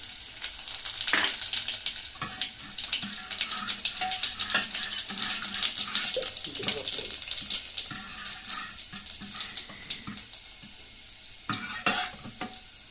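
Garlic and cumin seeds dropped into hot oil for a tempering for spinach dal, bursting into loud close sizzling with sharp crackles and spatters, plus intermittent clinks and scrapes of a spoon against the pan.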